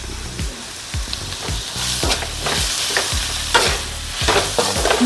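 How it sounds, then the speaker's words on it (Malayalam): Sliced onions and curry leaves sizzle and fry in a pan, loud and close, with repeated stirring scrapes every half second or so over the steady hiss, no voices. "അതിനകത്തൊരു സവോള ഇടുന്നുണ്ട് സവോള ഒരു മൂന്ന് സവോള തന്നെയുണ്ട് കുറച്ച് കറിവേപ്പില ഇടും"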